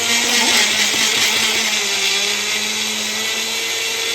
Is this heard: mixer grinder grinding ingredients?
yes